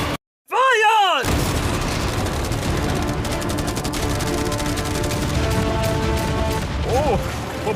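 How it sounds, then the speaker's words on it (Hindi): Machine guns and about a hundred cannons fire together in a dense, continuous barrage, loud and close, after a brief silence at the start. A whistling tone is heard early and again near the end. "इन सभी मशीन गन्स के साथ वहाँ पर है पूरे 100 कैनन्स"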